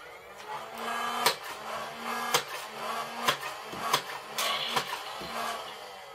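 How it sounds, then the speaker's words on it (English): A Nerf Spectrum blaster fires a magazine of third-party Econ waffle head darts, giving about seven sharp, evenly spaced shots over a low motor hum, close and fairly loud. "I'm just going to fire a mag of the Econ waffle head darts"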